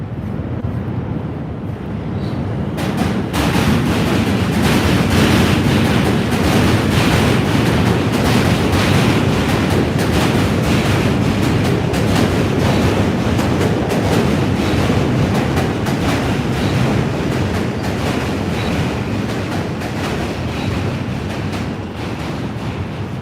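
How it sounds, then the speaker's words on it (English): Subway train rumbling past on the far track of an NYC station, a loud, continuous roar with rhythmic clattering of wheels over rail joints, sustained for the whole stretch. "the train's coming on the other side"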